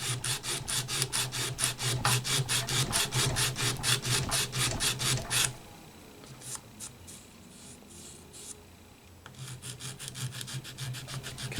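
A tool is swiped back and forth across a piece of Lexan during guitar repair work, making a fast, steady rasping rhythm. It breaks off for a few seconds of quiet with faint scrapes, then resumes.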